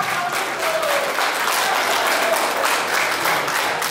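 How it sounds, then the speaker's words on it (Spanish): Loud, dense applause fills the room at an engagement ceremony, a steady wash of many hands clapping without pause from start to finish. "Para que quede fuerte los aplausos."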